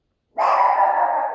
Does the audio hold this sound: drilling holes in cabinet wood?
no